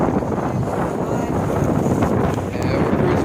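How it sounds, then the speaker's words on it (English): A sailboat cruising at about five knots through open ocean waves off South Carolina, with a steady rush of water and wind noise buffeting the microphone; no clear talk. "these waves, I just wanted to take a quick video of this open ocean sailing"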